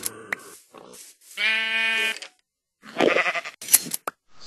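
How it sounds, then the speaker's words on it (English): Shears snipping wool from a sheep in Minecraft, with a few short crisp clicks and a clear, drawn-out bleat in the middle, surrounded by other scattered game sounds and no talking. "Shears also make sounds now."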